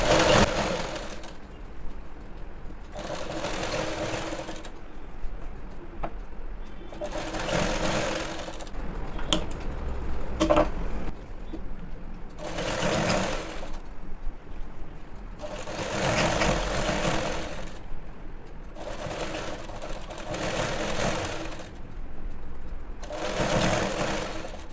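A sewing machine stitching the seam of a pair of pants, in repeated bursts of rapid whirring chatter separated by short quieter pauses, close and fairly loud, with no talking.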